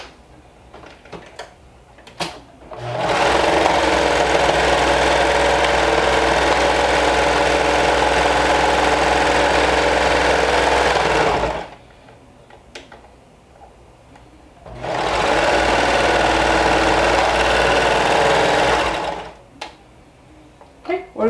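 A sewing machine stitches down fabric in two long runs of steady, close mechanical whirring, each several seconds, separated by a quiet pause with small handling clicks and taps before and after.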